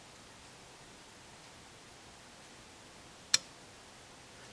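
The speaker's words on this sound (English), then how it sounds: "And you will hear a click on a certain moment." A single sharp relay click from a Schmitt trigger circuit snaps out once, brief and distinct, against a faint steady hiss with nothing else around it.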